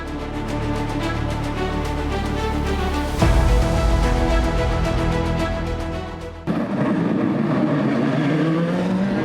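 GT race cars compete in the GT World Challenge Asia 2025 at the Buriram circuit, their engines roaring loudly and continuously with a sharp shift in pitch as cars pass, rising revs and a changing engine note near the end.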